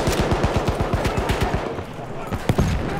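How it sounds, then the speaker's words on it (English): Rapid machine gun bursts rattle in Battlefield 1, a fast rhythmic string of shots that pauses and then resumes with a few heavier reports, loud and close amid battle noise. "Machine gun over there!"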